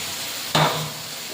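Fried potatoes drop into hot spice masala in a pan with one sudden splash that settles into a steady sizzle, close and loud, with no voices.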